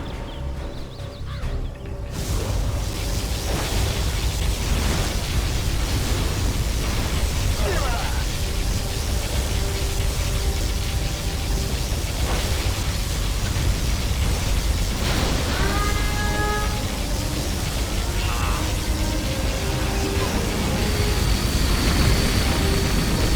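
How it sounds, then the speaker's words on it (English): A particle cannon superweapon fires in Command & Conquer Generals Zero Hour, a loud sustained roaring blast over battle noise with crackles and bursts, continuing almost without a break. "Particle cannon activated."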